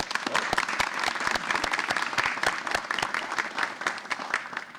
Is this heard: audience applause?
yes